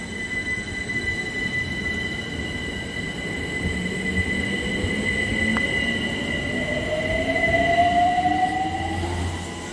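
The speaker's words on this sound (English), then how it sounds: "I may as well keep dry riding round on the London Overground." London Overground train running on rails, with a steady rumbling ride, a rising wheel squeal that builds toward the end, and constant tonal hum, heard from inside the carriage with no talking.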